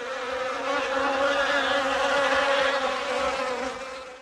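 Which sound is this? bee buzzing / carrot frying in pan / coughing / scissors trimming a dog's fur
bee buzzing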